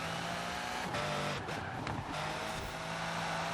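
A Pagani Zonda Cinque in Forza Horizon 4 roars under hard acceleration, a loud sustained engine drone that dips briefly as gears shift, then climbs steadily again.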